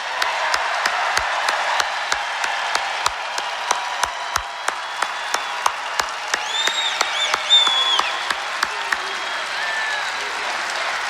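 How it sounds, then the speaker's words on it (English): Crowd at a Donald Trump political rally in Cincinnati, Ohio applauding for law enforcement: a sustained roar of clapping and cheering from a large arena audience, with sharp periodic thumps and shouts rising near the end. "Let's give them a round of applause."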